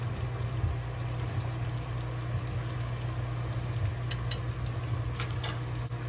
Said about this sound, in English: We just fry it.